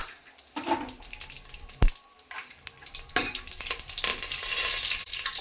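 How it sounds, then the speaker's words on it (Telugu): Whole spices frying in hot oil for bagara rice, giving uneven bursts of sizzle with a sharp clack partway through, the hiss swelling and steadying toward the end, close and without speech. "ఆయిల్ వేస్తున్నాం. బగారన్నానికి సరిపోయేంత బగారాకి ఇవన్నీ మసాలాలు"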